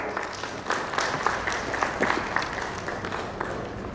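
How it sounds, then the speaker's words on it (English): Audience applause at an insurance industry summit and awards ceremony, a sustained round of clapping from a crowd in a hall, steady and moderately loud throughout. "Please welcome with a huge round of applause."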